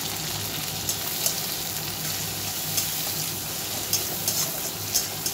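Garlic, a bay leaf and chopped onion fry in hot oil, giving a steady, close sizzle with soft crackles and a few faint stirring clicks, no voices.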